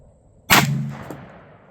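A single sharp report from a black powder muzzleloader fired outdoors, a loud close blast that rings briefly and fades over about a second.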